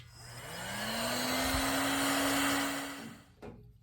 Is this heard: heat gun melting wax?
yes